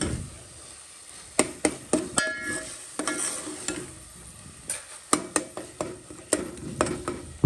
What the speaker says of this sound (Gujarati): હવે આને ઘડીક હલાવીએ આપણે.